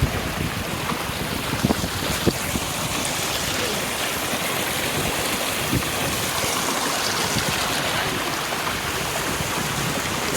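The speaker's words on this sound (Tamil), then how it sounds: "அப்படியே ஃபால்ஸ் மாதிரி இருக்கு மக்களே, குட்டி ஃபால்ஸ் மாதிரி இருக்கு" A small waterfall at Kothapalayam in Tamil Nadu, flowing water pouring in a steady, dense rush, loud and close, with no voices over it.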